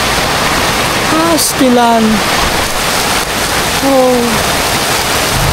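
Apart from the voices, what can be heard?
heavy rain falling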